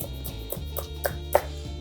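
Knife chopping steak into thin sticks for fajitas on a cutting board, a quick series of soft, evenly spaced thuds, close and clear with no talk.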